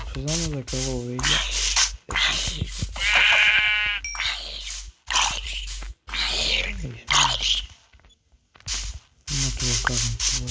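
Sheep bleats from Minecraft, a few wavering cries mixed in among loud, continuous game sounds and voices talking over them.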